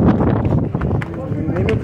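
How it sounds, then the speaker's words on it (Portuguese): Strong wind buffets the microphone at the Sugarloaf Mountain cable car lookout in Rio de Janeiro, a loud, continuous low rumble lasting the whole moment, with voices mixed into the gusts. "Nossa, o vento me rasgou."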